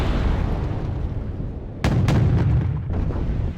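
Explosions in the war game Wargame: Red Dragon, where a missile strikes amid tank combat: a sharp blast cracks out mid-clip, followed by a quick second burst and a rolling rumble over continuous low battle noise.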